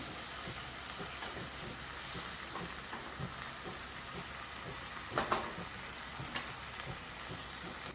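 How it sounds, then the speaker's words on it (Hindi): Vegetables stir-fried in a pan with chilli sauce for spring roll filling, a continuous dense sizzle with stirring scrapes throughout and a brief louder clatter near the end, close and steady, with no talking. "वेजिटेबल्स हमारी स्टर हो चुकी हैं अच्छे से।"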